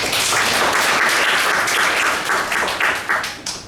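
A comedy show audience from St. Petersburg, Russia bursts into loud, full applause that holds steady, then thins out and tails off near the end.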